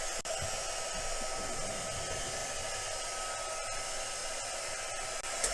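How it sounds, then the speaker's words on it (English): An embossing heat tool blows hot air for a tag-style bookmark craft, a steady close whooshing hum that runs without pause for the whole few seconds, with no voices. "I'm just going to run my heat tool down here just to warm up"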